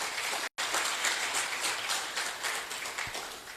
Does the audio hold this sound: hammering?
no